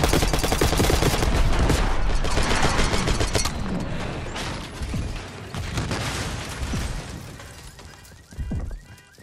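Heavy gunfire in the Call of Duty: Black Ops 6 campaign during a street ambush on a limo, dense rapid shots and mechanical rattles, loud at first then thinning into scattered bursts and a final boom.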